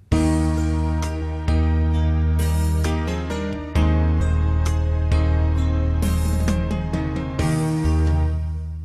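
Soft gospel played on a keyboard: sustained full chords with a steady bass, repeated struck notes and fills, loud and close with no talking.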